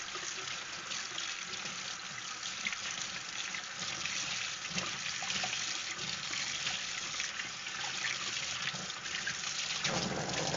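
Tap water runs steadily, close and continuous, as items are rinsed under it in a kitchen sink, with no talking.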